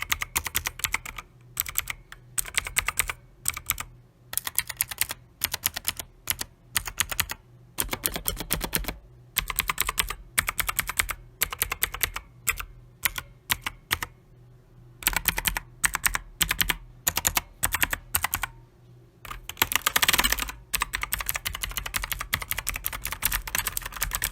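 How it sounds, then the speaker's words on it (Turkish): Typing on a Rampage Strike GX7 gaming keyboard, a rapid run of sharp key clicks in bursts with brief pauses, close and clear with no talk. "Evet arkadaşlar klavyemizin sesini dinleteyim ben size."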